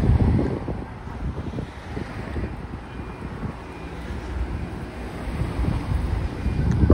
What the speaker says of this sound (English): Got a bit breezy down there.